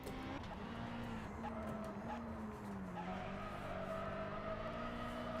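A rally car in the Richard Burns Rally video game, on a 1995 Barum Rally stage, with a loud engine droning steadily throughout and tires skidding and scrubbing on the surface.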